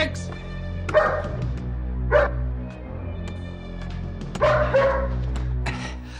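A dog barks in several separate sharp bursts, fairly close, over a steady low hum, with whimpering yips between barks, in a factory during a TV drama bomb scene.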